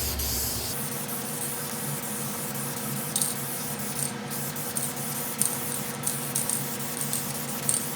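An aerosol can sprays paint stripper onto a panel in a steady, close hiss with faint rubbing clicks throughout, no voices.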